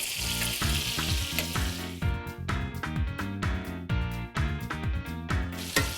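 Filet mignon steaks searing in a hot pan make a bright, steady sizzle, partly buried under loud background music with a strong beat.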